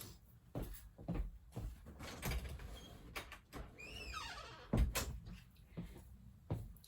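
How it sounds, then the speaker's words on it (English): A door opened to let a cat out, with thumps, clicks and handling knocks spread over several seconds and a brief squeaky sliding sound midway, close and quiet. "I gotta open the door to let him out."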